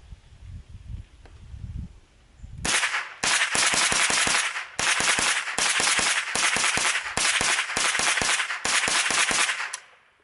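A Ruger 10/22 rifle fired in a rapid magazine dump: after quiet handling noises, a long run of sharp, loud cracks follows in quick uneven bursts for several seconds, close and ringing.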